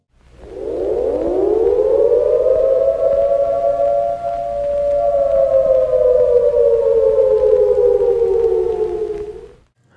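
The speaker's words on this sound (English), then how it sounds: "A sample of each alert siren is played." A civil defense alert siren wails loud and steady for about ten seconds, rising at the start, holding a sustained tone with a slight dip midway, then fading out at the end.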